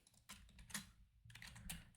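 Quiet computer keyboard typing in two short bursts of rapid keystrokes separated by a pause, close and faint, with no voices.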